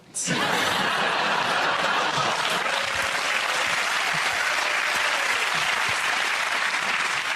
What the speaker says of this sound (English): One of the largest spontaneous and heartfelt applause we've had